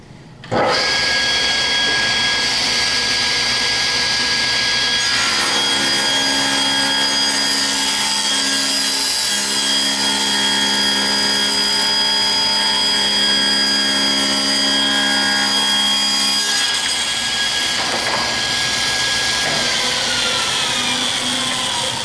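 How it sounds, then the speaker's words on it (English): A table saw running steadily and cutting a board, a loud, continuous whine with a deeper load tone while the blade is in the wood through most of the stretch, then easing back toward idle near the end. "I'm going to slide the fence over so that I'm able to cut a little bit of that board off"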